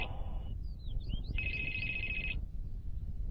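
A telephone rings with a single bright electronic trill lasting about a second, preceded by a few short chirps over a low background hum.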